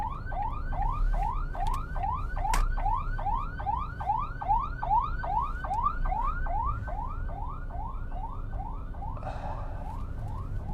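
Ambulance siren on a narrow two-way road, a loud repeating rising wail cycling steadily about twice a second, close and continuous before fading slightly at the end, with no one speaking.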